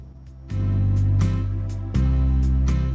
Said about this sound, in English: here's what easy country sounds like